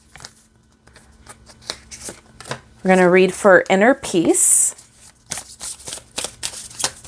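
Oracle cards are shuffled in a crisp series of riffling snaps and taps, spread across the moment, with a person speaking briefly in the middle.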